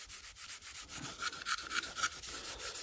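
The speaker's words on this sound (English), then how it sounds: "I'll give them a good scuff up." Plastic reflector lenses on a Jaguar XK8 being scuffed with abrasive after a paint-thinner wipe, giving a steady run of short, repeated rubbing strokes at close range, some slightly louder, with no talk.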